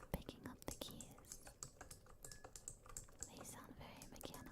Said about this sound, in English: This microphone does a really good job of picking up the keys.